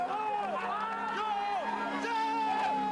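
A crowd whoops and cheers as rally vehicles set off at the start of the Toyota 1000 2009 rally, a steady roar of voices with rising shouts, heard fairly close and continuous.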